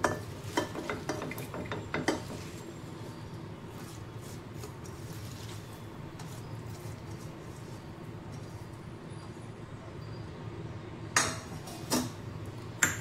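Ingredients go into a steel pressure cooker in a home kitchen, with soft scraping, stirring and faint clinks of a spoon against metal, plus a few sharper knocks near the start and end.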